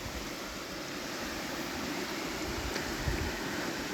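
A river flows steadily nearby, an even broadband rush of moving water with a faint gurgle, continuous and moderately quiet, no voices over it.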